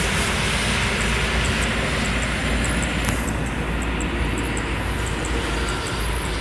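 A DJI Ryze Tello drone flies in strong wind while climbing high, its motors giving a steady loud whirring drone mixed with rushing wind noise, continuous and unbroken, with no talking.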